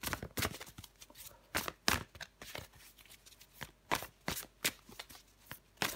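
Tarot cards shuffled by hand in close, irregular bursts of crisp riffling and slapping, quiet and alone, with short pauses between sharp card flicks.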